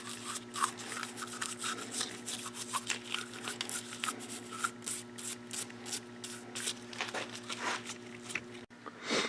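An old toothbrush scrubs the engine case of a Kawasaki KX 125 dirt bike in quick, uneven strokes, a close scratchy bristle rasp over a steady low hum.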